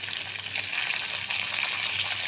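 Curry leaves sizzle in hot oil over a low flame while tempering pulihora, a steady, bright crackling hiss that stays even and close throughout.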